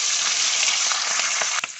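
Fish seasoned with salt, turmeric and lemon juice sizzles as it fries in oil in a pan, a steady bright hiss close up with faint crackles.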